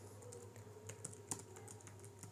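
Someone types on a computer keyboard during an online English typing test, a quiet, steady patter of key clicks with a few sharper strokes and a low hum beneath.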